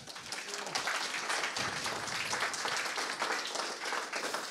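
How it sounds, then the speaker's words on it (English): A conference audience claps in a steady, continuous round of applause that holds at an even level for several seconds, dense and fairly close, with no clear speech over it. "Quick round of applause."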